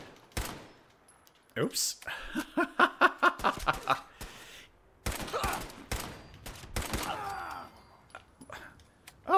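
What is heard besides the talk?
automatic pistol gunfire in the video game Fallout 4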